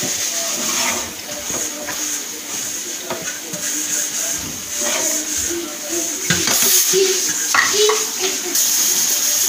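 Green chicken curry with kasuri methi and coriander being stirred in a pot, with soft scrapes, clinks and a faint hiss, close by and fairly busy throughout.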